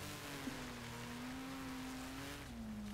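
A racing car engine in Wreckfest drones at a steady, slightly wavering pitch, dipping near the end, over a hissy background; no talking.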